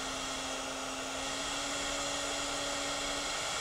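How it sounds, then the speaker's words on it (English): A Baileigh WR-84V CNC wood router's spindle cuts wood with a steady, continuous high-pitched whine and broadband hiss, loud and unbroken throughout. "increase our spindle speed as it's cutting as well"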